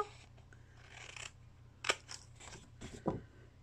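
Large scissors snip through material indoors, several crisp separate cuts with rustling between them, close and fairly quiet.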